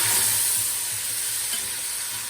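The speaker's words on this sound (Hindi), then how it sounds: "थोड़ा सा इसको अंदर तक फ्राई करूँगी" Beef frying in a pot with browned onions and green chillies for beef pulao, a steady close sizzle and hiss with faint stirring scrapes.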